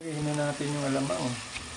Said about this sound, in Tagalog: Habang nagigisa yung kamatis, sabay na rin yung alamang.